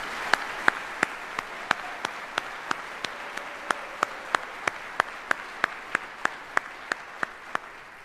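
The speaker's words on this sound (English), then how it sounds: "please join me in a round of applause for all of our military families" Applause from the audience at a US Army retirement ceremony, heard as single sharp claps in a steady, even rhythm, roughly three per second, faint and distant with no talking over them.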